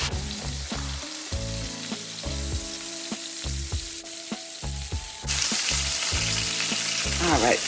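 Chicken sizzles steadily in a hot pan while being flipped, with irregular clatters and scrapes of utensil against metal over the constant frying hiss, which grows louder and brighter toward the end.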